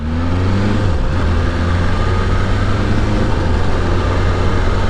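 A 2023 BMW S1000RR sport motorcycle filtering through traffic, its loud, steady engine drone close by with brief dips in pitch at quick-shifter gear changes, then pulling on.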